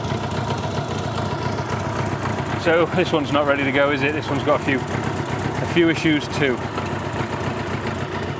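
A Honda Goldwing motorcycle engine idles steadily at close range with a constant low rumble throughout, while someone talks over it.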